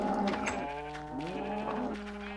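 Sheep in a farming video game bleat in a couple of close, wavering calls, one overlapping the next, with no talk over them.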